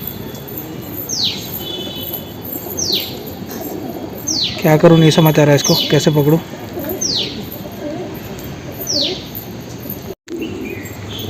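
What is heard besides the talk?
pigeon cooing on a rooftop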